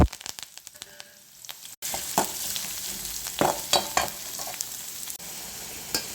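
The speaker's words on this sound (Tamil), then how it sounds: "கடுகு பொரிஞ்சோன்னா வெங்காயம் கருவேப்பிலை போடணும்." Onion and curry leaves drop into hot oil with already-popped mustard seeds, bursting into a loud close sizzle after a quieter opening, with stirring scrapes and crackles throughout.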